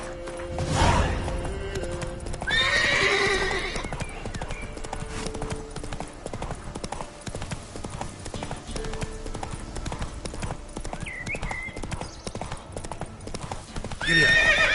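Horse hooves clip-clop steadily with a loud neigh and whinnying bursts near the start and again at the end, close and prominent over a busy outdoor background.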